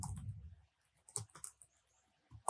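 Keys clatter on a computer keyboard in short irregular bursts of close, crisp clicks separated by pauses, with a soft low thump at the start.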